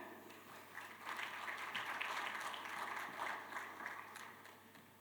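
Conference audience clapping to welcome a speaker, a moderate crowd applause swelling in and tapering off, heard from a distance at low level.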